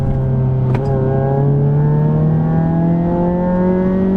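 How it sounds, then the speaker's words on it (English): Sporty car engine running in TCR race drive mode, a loud steady hum that slowly climbs in pitch, rally-car-like and rising evenly throughout with no talk. "And that actually sounds like a totally different engine, honestly. It sounds more like a rally car."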